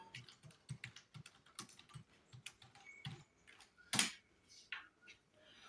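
Rapid typing on a computer keyboard, a steady run of close, crisp key clicks with one louder tap near the end, no talking.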